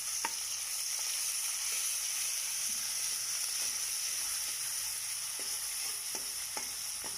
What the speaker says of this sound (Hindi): कढ़ाई में मैंने थोड़ा सा ऑयल डाला, ऑयल नहीं बताया था मैंने, तो ये थोड़ा सा ऑयल डाला और थोड़ी देर भून लिया